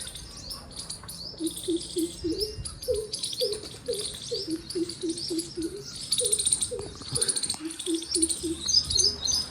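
Sparrows chirp while feeding on millet in a village near Botad. Faint, rapid high chirps and tweets repeat throughout, over a steady run of soft, low cooing calls from nearby birds.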